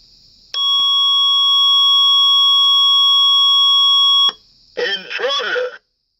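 A steady electronic alarm tone from an Elk-110 siren driver sounds for about four seconds, loud and unbroken, then cuts off and a synthesized voice briefly speaks a burglar alarm message: "Intruder, leave immediately."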